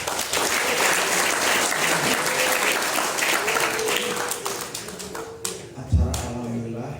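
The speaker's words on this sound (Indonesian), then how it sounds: "Tepuk tangan dulu buat panitia." Crowd applause for the organizing committee at a santri council closing ceremony, steady and moderately loud, thinning out toward the end with a few louder knocks and faint voices underneath.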